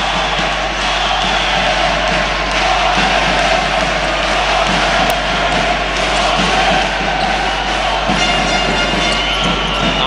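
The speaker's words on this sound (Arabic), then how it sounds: "اسمع الجمهور، هو المعلق" An indoor basketball arena crowd at a Lebanese club game between Homenetmen and ESS roars continuously, with cheers, shouts and ball bounces under a commentator's voice.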